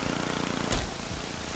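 A lawnmower engine in the Happy Wheels video game drones steadily and fairly loud for a moment, with a brief surge partway through and no talk over it.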